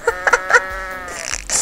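In the video game Goat Simulator, a goat lets out a loud, quavering bleat in three quick pulses that stretch into a long wavering cry, followed by a burst of noisy game sound.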